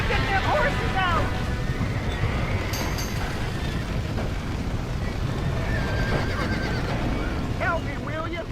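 Horses in a video game, Red Dead Redemption 2, whinny repeatedly through a loud, dense wash of noise and commotion, with hooves clattering and voices shouting.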